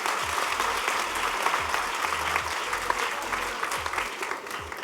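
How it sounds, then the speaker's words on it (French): Audience applause at a high-school graduation ceremony, a dense steady clapping from a large crowd that fills the whole stretch at an even level. "Applaudissez-la pour son courage et sa bravoure."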